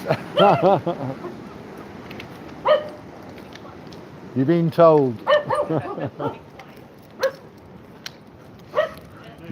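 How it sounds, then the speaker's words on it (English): Two Jack Russell terriers bark and yip insistently for food during a walk, giving short bursts and a rising whine. People talk over and between the barks. "Two dogs telling their people they want to share their food."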